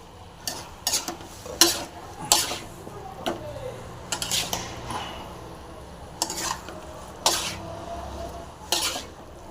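A spoon stirs and scrapes a roasted peanut and chilli mixture in a metal pan, giving irregular clinks and knocks over a faint, steady sizzle.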